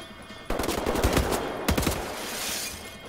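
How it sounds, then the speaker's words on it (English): Assault rifle fire in Wolfenstein: The New Order, a loud rapid automatic burst, a brief pause, then a second volley with crackling echoes, no talk. "Let's switch back to the assault rifle."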